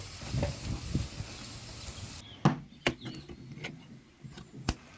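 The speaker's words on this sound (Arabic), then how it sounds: "على نفس الزيت والزبده في الطاسه بعد ما روقناها تمام هننزل بالبصل" Onions dropped into a pan of hot oil and butter for a creamy mushroom sauce, with a soft steady sizzle followed by a few sharp clicks and taps of a utensil against the pan, close and fairly quiet.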